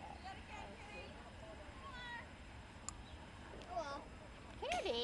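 A cat meows a few times, with faint rising and falling calls scattered through the clip and one louder meow near the end, heard over low background noise and some conversation.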